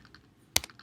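A few quick keystrokes on a computer keyboard, faint light taps followed by a sharper pair of clicks, close and isolated in a quiet room.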